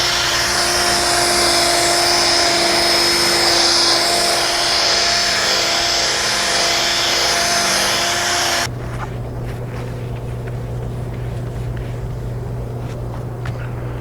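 A power polisher buffs a car headlight during restoration, a loud continuous whirring drone close up for about nine seconds before cutting off abruptly to a quieter low hum and faint handling sounds.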